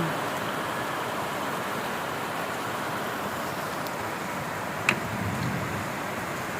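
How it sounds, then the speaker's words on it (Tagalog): Steady, dense hiss of heavy rain during a typhoon pours without pause, broad and constant, with one brief sharp knock partway through. "ang lakas ng ulan"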